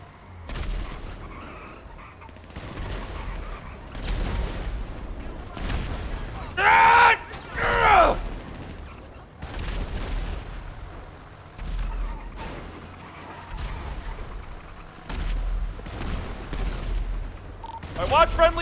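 Scattered gunfire in a GTA V NoPixel roleplay shootout: intermittent sharp shots and bursts ring out at moderate volume across the stretch, mixed with voices talking in between.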